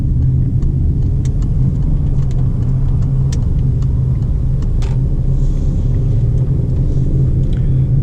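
A car's engine and road noise heard from inside while slowing and shifting down through the gears on a driving-test route in Laval, a loud, steady low rumble throughout with faint ticks above it and no talking.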